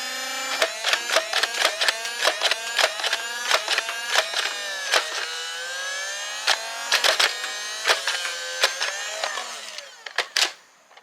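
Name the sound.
neighbor's construction noise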